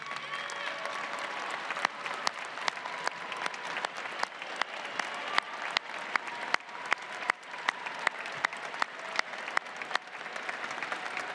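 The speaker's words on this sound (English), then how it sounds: "graduates, let's give them a round of applause of thanks." Graduates at a December 2015 Texas Tech commencement applaud their families standing in the audience, a large hall filled with continuous clapping, individual sharp claps popping out near the microphone over the steady crowd roar.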